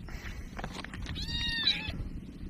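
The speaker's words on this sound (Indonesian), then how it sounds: "ada kucing kan kawan, nggak tahu kucing siapa di sawah" A cat in a rice field gives a few short meows, the last one longer and clearer, fairly close over low background rumble.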